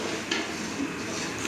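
Kadhi cooking in a caterer's kitchen, a brief stretch of metallic stirring and scraping in a large pot over a steady background hiss.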